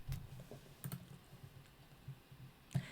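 A computer keyboard types a short course code into a schedule builder, giving a few sparse, close clicks and taps spaced irregularly, with one firmer keystroke near the end and no talk.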